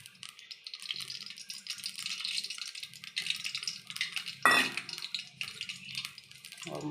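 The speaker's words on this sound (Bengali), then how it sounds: "এদিকে আমি একটা কড়াই বসিয়ে দিয়েছি।" A metal kadai is set onto a stove, with quiet rattling and clinking of pots throughout and one sharp, loud clank midway.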